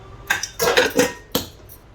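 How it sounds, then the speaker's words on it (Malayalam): A soft sponge cake being set onto a plate, a few close light clinks and taps of dish and tin over about two seconds, no talking. "അപ്പോൾ നമ്മൾ കേക്ക് ഈ പ്ലേറ്റിൻ്റെ അകത്ത് ഇട്ട് കൊടുക്കാം."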